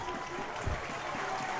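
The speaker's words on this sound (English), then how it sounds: "Nice round of applause, too, for Jack as he leaves the mound" A high school baseball crowd claps for a pitcher leaving the mound, a soft, distant patter of applause that continues steadily.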